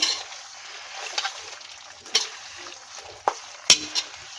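Sweet red chillies for pickle are stirred in a large wok, making soft wet scrapes and sizzling with a few sharp spoon clinks against the metal. The sounds are close and irregular, with no talking.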